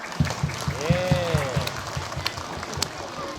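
Applause at an Islamic sermon about mothers: a moderate room of clapping with distinct rhythmic beats, joined by a voice calling out partway through.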